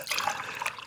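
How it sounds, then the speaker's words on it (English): Coffee being poured into a cup, a short close liquid stream with a bright splashing trickle, lasting about a second with no speech. "Oh, now I can just pour myself a cup of coffee."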